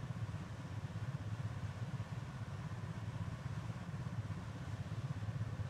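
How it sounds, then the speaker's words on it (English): A DC-3 airliner's propellers in flight in a flight simulator, a steady low droning hum with a faint rhythmic flutter, continuous and fairly quiet, with no voices. "We can hear our propellers out there kind of flapping in the wind."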